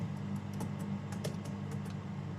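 Typing on a computer keyboard, a quick run of light, close key clicks in an irregular rhythm over a steady low hum.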